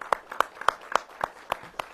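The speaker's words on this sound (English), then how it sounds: "Let's give them another round of applause, please." Scattered, sparse applause from a small audience at an outdoor ribbon cutting ceremony, a handful of distinct individual claps in a steady rhythm, fairly faint and brief.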